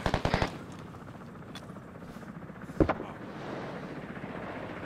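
Helicopter and gunfire in the Vietnam War game SOG Prairie Fire: a quick burst of sharp shots at the start, a single loud crack midway, and a steady rotor-like rumble throughout.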